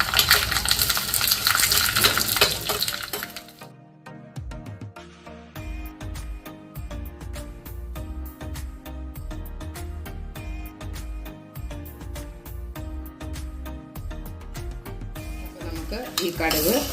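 Shallots, turmeric, chili powder and curry leaves fry in hot oil for a Kerala ripe mango pulissery tempering, a loud crackling sizzle for a few seconds, then quieter utensil clinks over background music.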